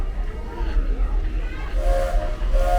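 A steam-style train at Walt Disney World's Frontierland, heard rumbling low and steady at a station as it prepares to pull off, with a sustained whistle-like tone sounding near the end amid crowd noise and people talking.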